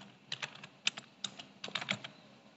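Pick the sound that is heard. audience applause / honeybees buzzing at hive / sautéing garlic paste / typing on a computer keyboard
typing on a computer keyboard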